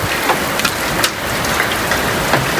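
Hailstones strike steadily during a storm, a dense, continuous patter with scattered sharper taps, close and fairly loud, with no voices.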